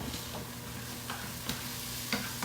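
Chicken thighs fry in a crowded pan with a steady, close sizzle, broken by a few faint clicks and scrapes of stirring; no one speaks.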